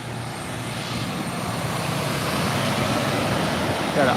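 An oxygen tanker truck arrives at the SpaceX Starbase launch site main gate in Boca Chica, Texas, a steady, slowly building engine drone close by, with a brief louder swell at the end.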